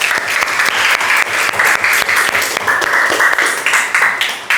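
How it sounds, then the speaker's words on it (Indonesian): Students in a classroom applaud together, a loud, brisk clatter of many hands with a few sharper individual claps standing out and no talk over it. "tepuk tangan untuk kita semua"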